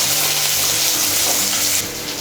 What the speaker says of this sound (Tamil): இப்போ கடுகு உளுந்து நல்லா பொரிய ஆரம்பிச்சிடுச்சு